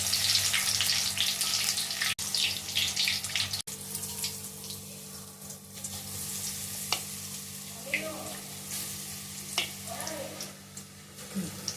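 Bajji fritters frying in oil give a loud, dense sizzle that gradually eases, with scattered stirring clatter, a couple of sharp clicks and brief voices in the background.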